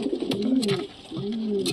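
Young pigeons cooing close by, two soft warbling coos with a short gap between, in a pigeon loft.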